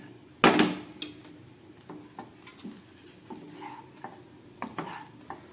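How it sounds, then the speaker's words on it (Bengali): A spoon stirs and mixes a dry, fluffy dish in a pan with crushed ground black pepper, opening with one sharp clank, then light scraping and tapping in an uneven rhythm, close by, with no voices. "আবার একটু ভালো করে মিশিয়ে নিই"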